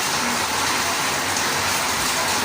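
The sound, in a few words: rain falling outside a house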